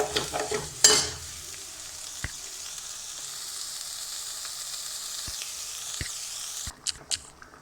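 Boiled rajma are stirred into a sizzling masala in a pan, a continuous soft fry with a few sharp scrapes and clinks of the spoon, close and without talk.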